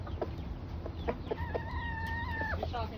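Backyard chickens cluck and call continuously at close range, with a drawn-out crowing-like note rising over the flock partway through, against steady low background noise.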